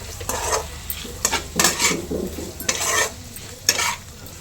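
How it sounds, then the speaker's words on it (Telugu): A spoon stirs raw prawn curry with salt, gongura and spices in a pan, giving a handful of close scraping, sizzling strokes with brief clinks against the metal, no talking. "ఒక టీ స్పూన్ సాల్ట్ వేసుకున్నాం కదండి. మంచిగా కలుపుకున్నాం."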